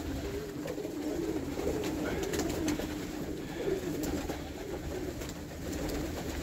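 Pigeons in a loft coo steadily and softly, a continuous low burbling chorus close by with faint rustling and no one speaking.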